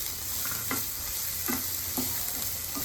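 Onion and capsicum stir-fried in a pan on high flame, with a steady sizzle and a spatula scraping in a few evenly spaced strokes, close and fairly loud, no voices.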